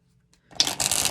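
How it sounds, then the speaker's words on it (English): Tarot cards are shuffled up close: a quiet start, then a dense burst of papery riffling that runs steadily to the end, with no talk. "deck and do another shuffle."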